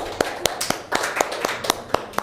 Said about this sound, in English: Give applause for Amel.